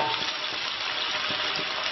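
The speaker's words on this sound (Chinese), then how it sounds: "炒到这个鸡肉收缩发紧的时候" Chicken pieces sizzle and fry in a wok over a farmhouse wood-fired clay stove, a dense continuous crackle with occasional stirring scrapes, close and steady with no talk.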